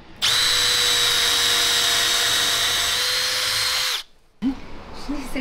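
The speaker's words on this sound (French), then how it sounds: "on perce." A drill bores pocket holes in wood held in a jig and C-clamp during a minibus conversion, a loud steady high-pitched whine for about four seconds that stops abruptly, followed by a brief clunk and quieter handling noise.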